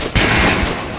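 Gunfire in the Metro: Last Light video game while shooting at dummies on a range, a loud close burst of rapid shots that runs together for about a second.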